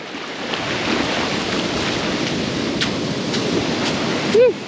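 Strong ocean waves roar in a continuous, loud wash of surf, with a brief higher-pitched sound near the end.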